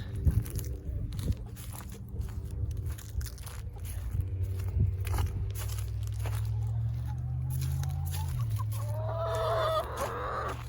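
Young hens in a chicken coop cluck and squawk in busy, overlapping calls close by, with a low drawn-out murmur of clucking underneath and a louder rising squawk near the end.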